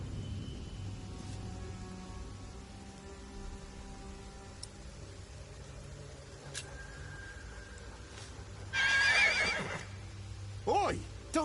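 A horse whinnies loudly and shakily close by, with a second shorter neigh soon after, over a low murmur of background voices and movement.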